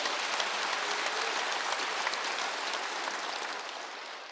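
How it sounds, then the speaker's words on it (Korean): A congregation at a Wednesday church service claps together, a dense, even patter of many hands that holds steady for a few seconds and then slowly fades. "박수로 영화되세요"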